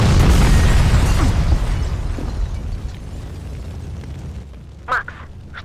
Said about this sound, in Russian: Сейчас все рванет к черту, вот что!